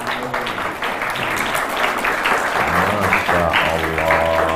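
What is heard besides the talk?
audience applause during a sermon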